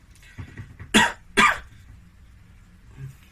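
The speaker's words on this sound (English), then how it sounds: "I need you to cough for me." Two sharp, close coughs in quick succession during a medical abdominal examination, with soft breathing and faint murmurs around them in a quiet room.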